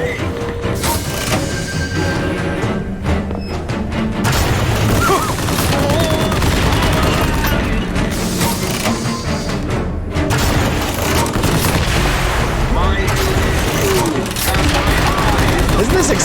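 Fireworks explode in the video game Bioshock Infinite, a loud, dense, continuous barrage of booms and crackling bursts lasting throughout.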